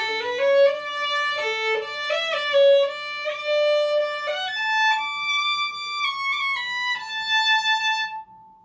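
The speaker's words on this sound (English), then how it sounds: "So what does a violin sound like?" A violin bowed in a series of sustained, bright high notes, moving from one pitch to the next in a clear melodic line, close and alone with no talk.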